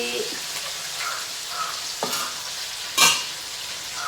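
Fish fries in a pan with a steady, soft sizzle throughout, broken by a few sharp clinks and scrapes of stirring near the end.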